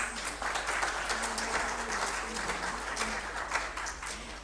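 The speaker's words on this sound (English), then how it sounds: "A round of applause for the panelists." An audience at a high-level policy dialogue applauds the panelists: scattered clapping of moderate loudness, with a voice speaking faintly beneath it.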